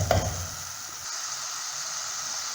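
Green chillies and curry leaves hit hot oil in a pan for a Kerala-style fish head curry, giving a sharp burst of sizzling that settles into a steady, close crackling fry with no talking.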